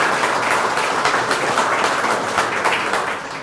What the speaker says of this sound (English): we definitely need to give him a round of applause